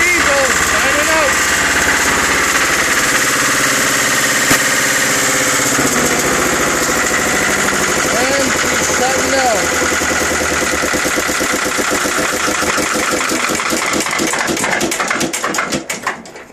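A Lister diesel generator engine runs with a loud, steady, rhythmic knocking drone close by, then begins to wind down at the very end.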